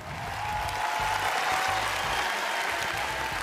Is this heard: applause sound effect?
yes